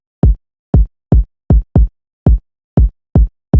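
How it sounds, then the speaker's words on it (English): Electronic kick drum pattern from the quiet verse of a song, nine punchy, booming hits alone in an uneven, syncopated rhythm with short gaps. "And the next that we also have this kick, which is doing this kick pattern."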